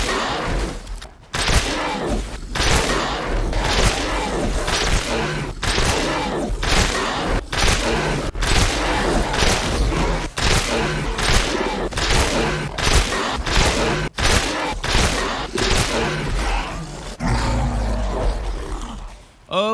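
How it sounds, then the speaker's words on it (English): Rocket pistol in Resident Evil Village firing a rapid stream of miniature rockets at a Varkolak, loud repeated blasts and booming impacts in a dense, continuous barrage, with creature roars mixed in. "18 miniature rockets to take down the Varkolak with the rocket pistol"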